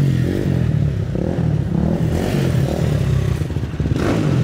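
A motorcycle engine runs and revs in a low, rough rumble as a rider prepares for a wheelie, loud and close, with scraping and clattering noises mixed in and surging briefly near the end.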